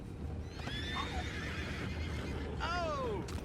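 A horse neighs and whinnies in a Red Dead Redemption 2 game scene, with two distinct calls, the second louder and falling in pitch, over a steady low rumble of ambient noise.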